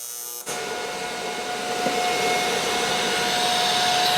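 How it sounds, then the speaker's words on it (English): AC arc welding on a cast aluminum Mercedes twin-turbo V12 engine, fully assembled, produces a steady loud electric buzz with a constant high whine that starts abruptly and holds without a break, alone and close. "With the AC welding for aluminum, the alternating current gives you a cleaning action as well. That's part of that buzzing noise you hear."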